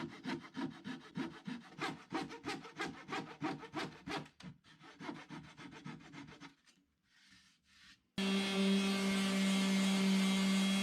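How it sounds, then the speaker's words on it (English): A flexible Japanese flush cut saw trims wood close to the surface in a fast, steady run of rasping back-and-forth strokes that slows and fades, then a loud steady hum takes over at the end. "with my super flexible Japanese flush cut saw, they're pretty easy to cut off"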